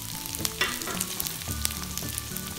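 Green chilli, ginger and onion fry in hot oil for a restaurant-style mixed vegetable dish, giving a steady close sizzle broken by sharp crackles and a few soft clinks of stirring.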